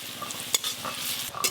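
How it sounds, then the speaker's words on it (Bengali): Onion and green chili fry in a pan as turmeric is added, with a steady close sizzle broken by stirring scrapes and a few sharp clinks. "পেঁয়াজ আর কাঁচা লঙ্কা একটু ভাজা ভাজা করে নিয়েছি। এবার ওপর দিয়ে একটু হলুদ গুঁড়ো দিয়ে দেবো।"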